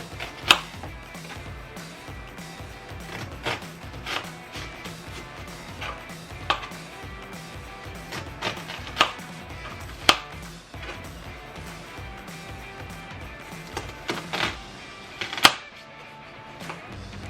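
A knife cuts an onion into thin slices on a board, giving a string of irregular, fairly close taps and thuds over a low background, with a sharper knock near the end.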